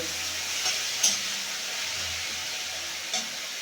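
Taro flower (kochu phool) cooking in a pan on a gas stove: a steady, close sizzle and hiss with occasional light stirring scrapes throughout.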